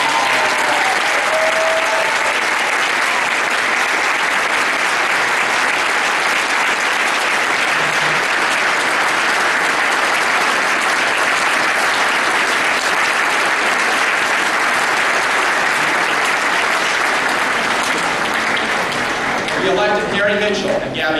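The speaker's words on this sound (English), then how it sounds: "we should give him a big round of applause" Audience applause for Terry Goddard at an Arizona Democratic Party gathering, a dense, steady clapping that holds loud and unbroken for the full length, with a few voices surfacing near the end.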